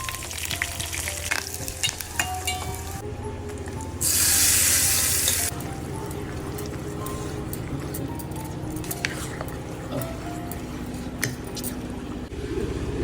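Dried red chillies, seeds and curry leaves fry in two spoons of hot oil, giving a steady loud sizzle and crackle with a burst of intense spitting partway through, then stirring scrapes over the continuing hiss.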